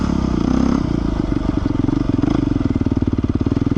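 A Beta 390 RR-S dual sport motorcycle rides in first gear, its engine a close, loud, rapid chugging pulse with some clatter from the bike.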